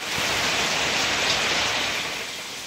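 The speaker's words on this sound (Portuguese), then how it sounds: "a chuva trancou a gente no sítio" Steady heavy rain falls on an Amazon jungle campsite beside a bridge, a continuous dense hiss with no pauses that eases slightly toward the end.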